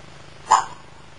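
A single short bark from a 13-inch beagle mother with her puppies, fairly quiet and brief, rising above a low background hum.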